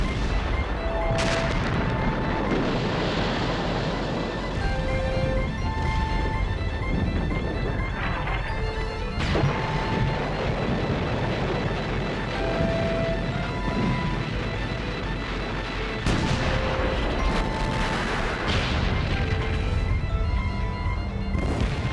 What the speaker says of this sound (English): The Germans hit the British with 1 million shells in just 5 hours.